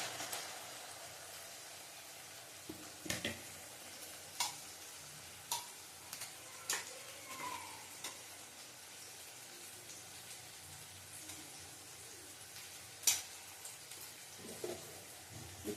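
Chicken is sautéed in a pan for a five-spice yogurt chicken, giving a soft, low sizzle with irregular clicks and taps from stirring spread across a quiet background.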